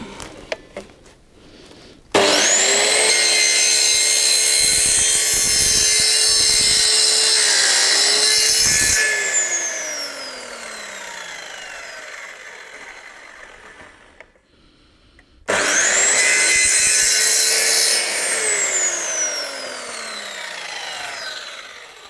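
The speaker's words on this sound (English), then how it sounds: "I've got a little drop saw, so I'm just going to cut my" A small electric drop saw cuts through plastic pipe in two loud passes, the motor whining up as the blade bites, sawing for several seconds, then spinning down, with a brief pause before the second cut.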